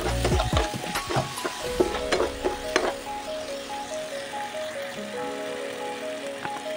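Chili chicken with green and red chili sauce being stirred in a pan: scraping utensil strokes and clinks cluster in the first three seconds over a soft sizzle, which then continues more quietly on its own.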